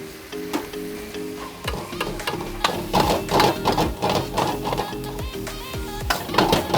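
Chowmein noodles tossed into a hot pan at a Delhi street stall making tandoori chowmein, with a steady near sizzle and repeated sharp clanks of a spatula against the pan.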